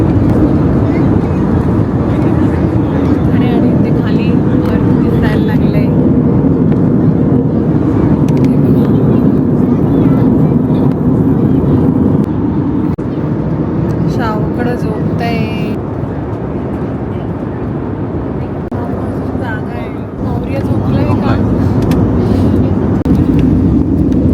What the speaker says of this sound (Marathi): आता विमान लँड होणार आहे